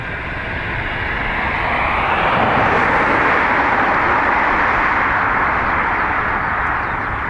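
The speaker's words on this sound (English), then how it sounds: "Citation 550, heading to Marseille next." Cessna Citation 550 business jet on the north runway at Dublin Airport, a loud, steady engine roar that swells slightly and holds throughout, with no voices over it.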